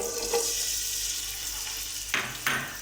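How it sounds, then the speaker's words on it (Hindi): Onions frying in hot ghee for a chana pulao, a steady hissing sizzle that runs close and even, broken by two short scraping stirs near the end. "अब हम इसके अंदर प्याज डाल देंगे।"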